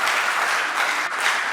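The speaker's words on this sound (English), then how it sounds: "Give yourselves a big round of applause for participating." Conference audience applauding, a dense, steady burst of many hands clapping together at close range, with no voices over it.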